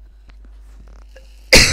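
One sharp, loud cough bursts out near the end after a quiet stretch with faint small sounds.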